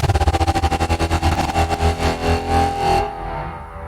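Electronic synth line run through a sound shifter effect in a dance track: a fast, loud pulse of repeated notes that slows and smears into wobbling swells, then cuts off to a faint tail, with no voices.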